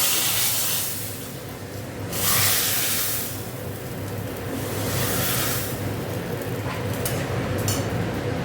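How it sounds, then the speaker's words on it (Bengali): Hot tempering poured into a pot of cooking lentil dal, giving a steady broadband sizzle and hiss that swells in bursts, with faint clinks over a low background. "দেখো ডালে ঢেলে দিচ্ছি"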